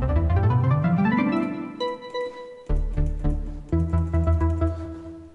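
Harmless synthesizer in FL Studio playing its Viking 5 preset as an arpeggiated melody: a low rising sweep into bright, repeating plucked synth notes in a steady rhythm, loud and alone with no voices.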